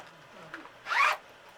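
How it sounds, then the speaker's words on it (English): A zipper on a sewn fabric bag is pulled open in one quick, close rasping stroke after a few faint handling clicks, with quiet around it. "You unzip it to turn it."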